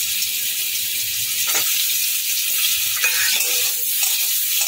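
Hog plums tipped into tempered spices in hot mustard oil sizzle loudly and steadily, close up, with a few scraping stirs and light clinks of the utensil against the pan.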